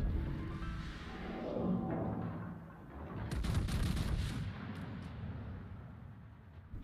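Main-gun salvo from the Thunderer, a tier 10 British battleship in World of Warships. A deep, continuous rumble swells into a broad, booming volley of heavy shots midway, then fades back to a low roar.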